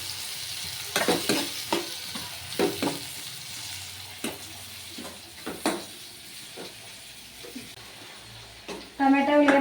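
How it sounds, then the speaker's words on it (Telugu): Chopped onions and tomato pieces frying in a pan for a Telugu tomato egg drop curry, with a steady soft sizzle and several distinct stirring scrapes in a quiet kitchen, a louder clatter at the very end. "ఇప్పుడైతే ఉల్లిగడ్డ మాత్రం మగ్గినాక ఇంకా టమాటా ముక్కలు వేసుకున్నామండి."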